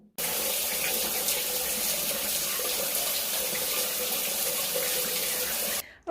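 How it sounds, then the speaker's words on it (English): A shower runs steadily in a home bathroom, a continuous hiss of falling water that stays even and fairly close for several seconds before cutting off abruptly. "let me get into the shower and I'll have a wee sing-song"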